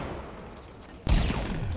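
Gunfire in the Fortnite Battle Royale video game erupts suddenly after a quiet stretch, a loud close burst of rapid shots that continues to the end.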